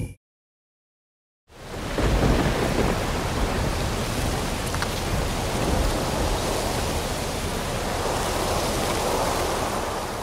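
After a moment of silence, a steady wash of heavy rain sets in over a forest, broad and hissing, with a low rumble of thunder beneath it.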